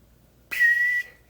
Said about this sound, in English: it's actually palatal whistling